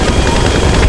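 Loud, continuous low engine roar of the Volatol bomber aircraft in GTA 5 Online, a dense droning rumble filling a brief moment with no pause.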